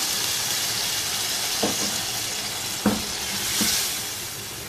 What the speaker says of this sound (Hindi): अब इसमें हाफ़ कप वाटर शामिल कर दें।